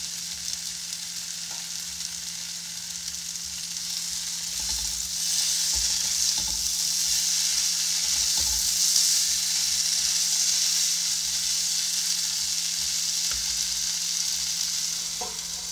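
Pumpkin leaves sizzle steadily in a pan for a Bengali chickpea fritter curry, a broad continuous hiss that swells partway through, with a low hum and occasional soft clicks of stirring.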